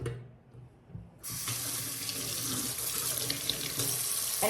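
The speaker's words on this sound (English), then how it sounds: "I'm just gonna run me some warm water in the sink" Warm water runs from a tap into a kitchen sink, starting abruptly after a second of quiet and then pouring in a steady, even hiss, close up with no talking.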